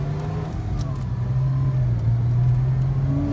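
A stock, unmodified Porsche Boxster engine pulls hard under acceleration, a steady loud drone heard from inside the car, its pitch climbing smoothly with no talk over it.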